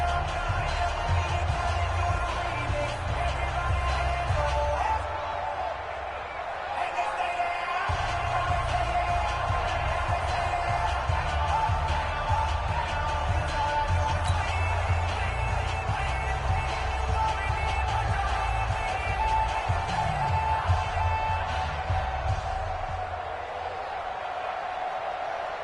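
Stadium crowd noise in an EA Sports NFL football game, a steady roar of fans under a commentator's voice with bursts of louder cheering throughout.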